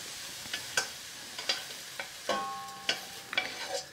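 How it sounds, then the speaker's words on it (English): Mushrooms dropped into a hot Dutch oven for creamy mushroom soup, giving a run of short clattering hits and stirring scrapes over a soft steady sizzle, close and moderately loud. "we're just gonna add our mushrooms into our pot"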